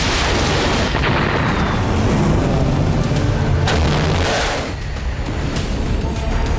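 Iranian missile strikes hitting Israel, with heavy, booming explosions and rumbling blasts overlapping in a dense, loud barrage, a few sharper bursts standing out.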